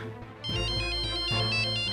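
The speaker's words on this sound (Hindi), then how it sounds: "कब से फोन बज रहा है?" A mobile phone ringtone plays loudly indoors, a repeating electronic melody with regular bursts that starts after a brief lead-in and continues steadily with no talk over it.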